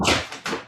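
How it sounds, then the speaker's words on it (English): Two quick soft thumps close by as a cat jumps up onto a table, each followed by a short rustle. "That was our cat that just jumped up on the table."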